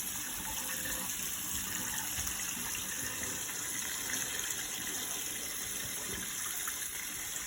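A cold water tap runs steadily, water streaming continuously with a soft hiss and gurgle throughout, fairly quiet and uninterrupted.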